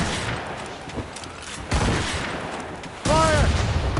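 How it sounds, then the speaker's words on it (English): Ship guns fire in a PS4 naval battle game, heavy booming volleys arriving in bursts, one near 1.7 seconds and a louder one near 3 seconds, with shouting voices over the rumble. "On your mark, Catty. Fire! Fire!"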